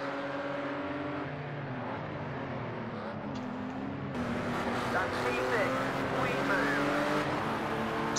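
A modded Porsche 992 racing in Project Cars 2, its engine droning steadily with shifting revs and tire noise throughout, with a louder, brighter surge in the second half.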